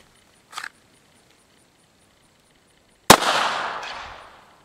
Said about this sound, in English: Glock 17